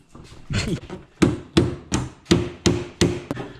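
Repeated hammer blows, about eight sharp strikes in a quick, fairly even rhythm, close and loud with metallic ringing.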